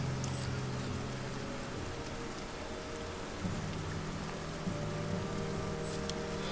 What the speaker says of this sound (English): The rain continues and the caravan struggles to keep moving.